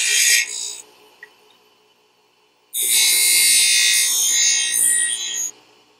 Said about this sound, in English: we're going to smooth off the end cuts